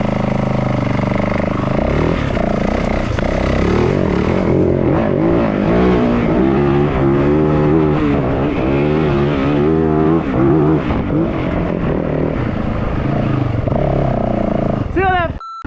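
Yamaha WR450F dirt bike, uncorked, held at wide open throttle in second gear, a loud continuous engine roar with rising harmonic pitch sweeps throughout, ending abruptly.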